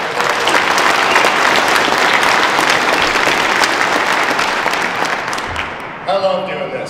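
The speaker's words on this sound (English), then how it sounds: "Big round of applause." Loud, dense applause from a crowd fills the stone rotunda at a Convention of the States rally in the Iowa Statehouse, holding steady before tapering off as a voice begins speaking.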